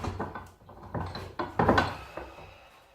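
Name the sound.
loosening a vise holding a wooden bar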